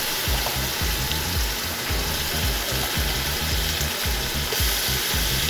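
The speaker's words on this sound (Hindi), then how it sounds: "अदरक लहसुन को अच्छी तरह से भूनेंगे।" Ginger garlic paste frying with onions in a pot while mutton yakhni biryani is being cooked: a steady, close sizzle with rhythmic low scraping and stirring pulses throughout, and no talking.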